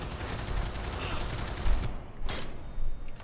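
Bursts of gunfire from the video game Cyberpunk 2077 come in quick rapid volleys, then a short pause and a couple of louder single cracks near the end.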